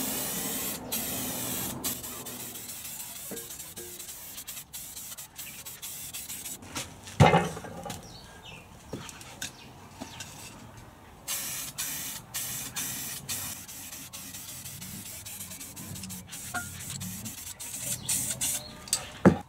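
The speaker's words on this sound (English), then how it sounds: "get a bit of this potbelly black, spray that" A spray paint can of potbelly black hisses out in several sustained bursts, close and fairly loud, with short pauses between passes and no talking.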